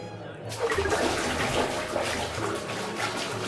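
Water splashes steadily as a sister is bathed in the video game Lona RPG, a dense, continuous wash of splashing and pouring after a brief quiet start, fairly close and with no talk.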